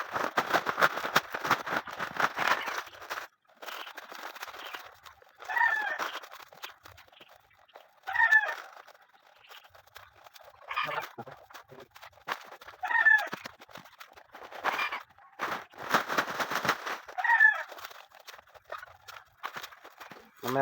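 Hens clucking around their nesting area while laying eggs, repeated throaty clucks and short calls in irregular bursts with quiet gaps, fairly close, including a few sharper crow-like squawks.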